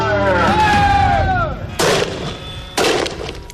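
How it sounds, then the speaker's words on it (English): Stinger less-than-lethal grenades that fire out rubber balls when they explode: two loud, sharp blasts in close succession with rushing noise after each, over a low rumbling background with a tonal whine. "These are Stinger grenades. When they explode, 24 tiny rubber balls fire out to batter and bruise opponents into submission."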